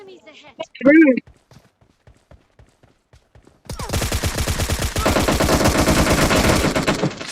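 Gunfire in an online shooter video game: after a few sparse shots and brief speech, rapid automatic bursts erupt and continue loud and dense to the end.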